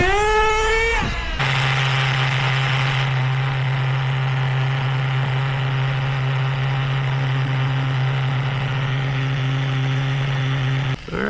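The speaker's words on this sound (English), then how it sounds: "So that was my third heat cycle, 213 degrees, dead, not too bad." A rebuilt HPI Hot Bodies Lightning 2 nitro RC buggy engine, run in during a break-in heat cycle, rises briefly in pitch, then settles into a loud, steady buzzing idle until it cuts out at the end.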